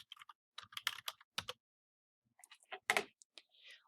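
Keystrokes on a computer keyboard while an essay is typed in Word, coming in quick irregular bursts of clicks with short pauses between them, close and fairly quiet, with no one talking.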